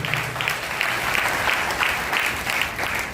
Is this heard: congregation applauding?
yes